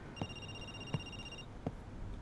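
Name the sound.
telephone ringing in a video game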